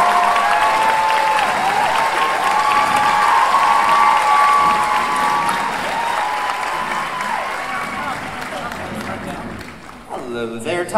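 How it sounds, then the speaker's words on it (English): A large Comic-Con panel audience at SDCC 2017 cheers and applauds steadily for a guest joining the stage, a dense continuous roar of clapping and whoops with faint musical tones under it. "I don't know if you heard it because you guys were cheering"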